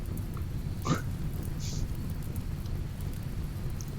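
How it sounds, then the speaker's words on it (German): Steady rain with a low thunder rumble in the RimWorld video game, a constant wash of falling water with a couple of brief brighter sounds on top and no talking. "Aber es regnet schon mal, das ist ganz gut."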